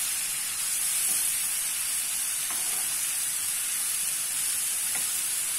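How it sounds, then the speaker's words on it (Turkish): Green beans sizzle and fry steadily in a pan on a Turkish home stove, a constant close hiss with faint stir clicks now and then. "Şimdi böyle biraz hafif kavrulmak lazım."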